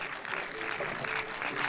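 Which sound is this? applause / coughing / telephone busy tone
applause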